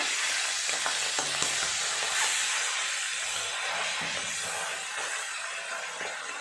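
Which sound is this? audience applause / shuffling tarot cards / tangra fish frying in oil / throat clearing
tangra fish frying in oil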